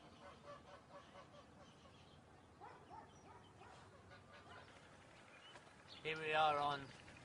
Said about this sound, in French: comme vous pouvez l'entendre, avec les oiseaux autour de nous